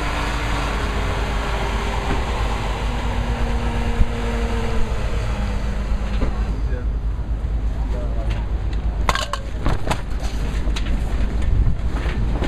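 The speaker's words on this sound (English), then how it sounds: "Hefty wind." Strong wind buffets an outdoor tent at a gathering, a loud continuous roar and rumble from start to finish, with a low mechanical hum early on and brief sharp knocks and flaps near the end.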